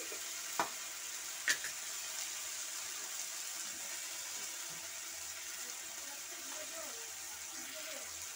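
A spice paste with turmeric and salt fries in a pan for a ridge gourd and poppy seed dish, giving a faint steady sizzle, with two sharp clicks of a utensil against the pan near the start.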